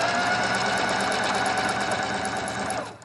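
A sewing machine stitches fabric in a fast, steady mechanical whir with rapid needle clatter, close and continuous before stopping abruptly at the end.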